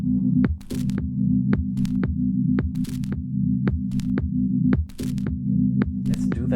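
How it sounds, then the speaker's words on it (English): A Digitakt synth pad pumps rhythmically under heavy sidechain compression keyed from a kick at a 20 ratio and 40 percent wet mix, the sustained low tone ducking on each sharp click-like hit in a steady minimal house pulse. "You see that the sound starts pumping."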